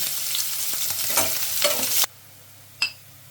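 Onions sizzle loudly in a hot pan for about two seconds while being stirred. Then the sound cuts to near quiet, broken by a single brief clink.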